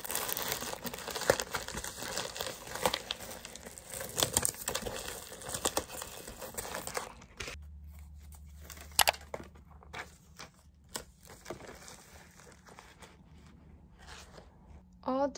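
A small order with a scrub cap is packed into a bubble mailer: loud, close crinkling and rustling of plastic packaging for about seven seconds, then quieter scattered handling taps and rustles.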